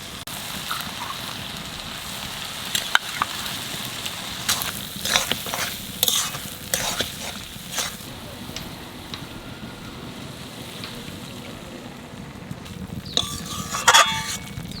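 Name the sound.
stirring and frying poppy seed paste with ridge gourd and potato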